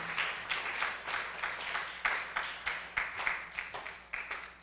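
Rhythmic group clapping fills a church service, steady repeated claps from a congregation at moderate distance, continuous throughout with no talk over it.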